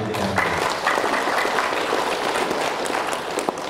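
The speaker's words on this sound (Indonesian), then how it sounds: "kita berikan tepuk tangan kepada PT Darmawan" An audience at a PT Darmawan Tour & Travel Hajj rehearsal event claps together in sustained, dense applause that holds steady at a fairly loud level from start to finish, with no talking heard.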